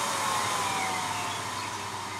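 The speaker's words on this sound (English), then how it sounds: "the greenhouse is inflated via this fan here, which is controllable also" A controllable inflation fan blows air into a DIY greenhouse heated by a solar, sand and compost warming system, giving a steady, loud, close-up whooshing hum with no pauses.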